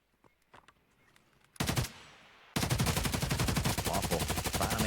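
Gunfire from an esports video game match: a few faint shots at first, then a loud burst, a brief pause, and a long rapid stream of automatic fire close by.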